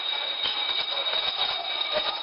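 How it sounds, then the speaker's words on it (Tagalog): A loud building alarm rings continuously through an office building at IT Park, Cebu, during an earthquake evacuation, a steady high-pitched tone over muffled footsteps and movement. "maririnig din ang malakas na alarm na umuugong sa buong gusali"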